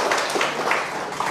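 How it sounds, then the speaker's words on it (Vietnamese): A church congregation claps during a sermon, a brief burst of brisk, dense applause from many hands, loud and close. "Vỗ tay rồi."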